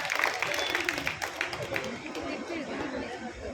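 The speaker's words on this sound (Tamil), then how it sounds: "அனைவரும் அவர்களுக்கு கைத்தட்ட" A gathering of Legion of Mary members claps for a birthday, scattered handclaps mixing with busy crowd chatter and voices throughout.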